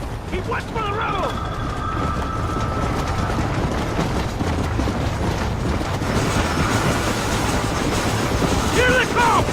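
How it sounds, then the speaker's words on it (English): Moving train rumbling along under frantic shouting, with low rolling wheel noise throughout and brief high squealing tones rising above it, busy and close with a chaotic action-scene mix. "Right ahead of the train!"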